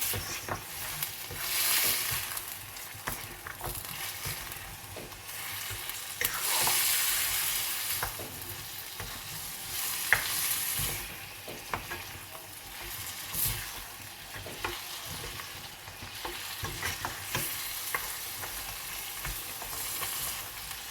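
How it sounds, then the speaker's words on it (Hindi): Mutton fries in a pan with turmeric, salt and chili while being stirred, a soft continuous sizzle broken by repeated scraping strokes and bursts of louder frying, fairly faint and without talk. "एक दो मिनट इसके साथ इसको भूनूंगी।"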